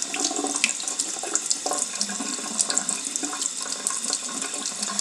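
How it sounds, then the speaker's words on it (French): Running tap water splashing over makeup brushes as they are rinsed, a close, continuous spatter with small irregular surges and drips, no voices. "N'hésitez pas à bien les rincer pour pas qu'il y ait du savon ou du shampoing qui reste dans les poils."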